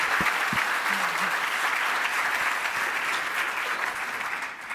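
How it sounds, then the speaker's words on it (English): Audience applause fills a conference hall after a powerful spoken message, a steady dense wash of many hands clapping that holds evenly throughout and tapers slightly at the end, with no voices over it. "that was a very powerful message, so I'm glad that got a round of applause"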